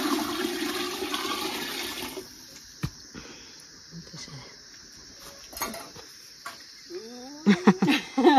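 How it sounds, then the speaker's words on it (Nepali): Hot water being poured out and cold water added to a still while distilling local millet alcohol, heard as a gushing pour and splashing with clinks of metal pots, then quieter trickles and a few louder sloshes near the end. "तातो पानी निकालेर चिसो पानी फेरि राख्नु।"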